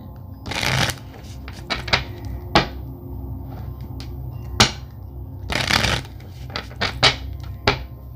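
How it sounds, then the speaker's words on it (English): Tarot cards are shuffled close by in several riffling bursts, separated by sharp taps and soft shuffling between them. "let me shuffle this for a second"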